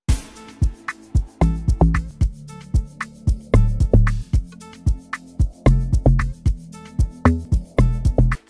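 Amapiano log drum in a two-step pattern: punchy, deep percussive hits in a bouncing one-two rhythm with ticking higher percussion over it, clear and alone with no voices.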